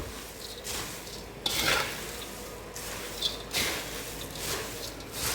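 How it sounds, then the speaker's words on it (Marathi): Puffed rice chivda is tossed and stirred in a kadhai, giving repeated dry rustling, scraping sweeps at a moderate level, close by, with occasional light metallic taps. "आता हे मिक्स करते सगळा चिवडा मी."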